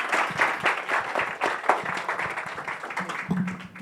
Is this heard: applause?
yes